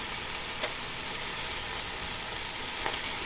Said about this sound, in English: I'm just sitting here letting it saute a bit.